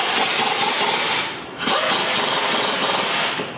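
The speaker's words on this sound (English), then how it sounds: "Now we can tighten those bolts back up." Loud continuous whirring of a power tool tightening caliper mounting bolts on a Toyota Highlander rear brake, two long sustained runs with a brief pause between, close to the work.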